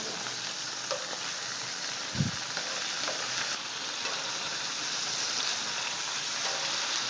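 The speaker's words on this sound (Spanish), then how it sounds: "Los bifes son vuelta y vuelta, lo más caliente que podamos la llama, el calor" A steady, dense sizzle of beef steaks searing in a very hot pan over high flame fills the clip, with a brief low clunk near the start.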